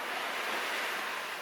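Steady broadband roar of surf and wind at sea on a grey, windy day, a constant wash of sea noise with gusty texture, no voices.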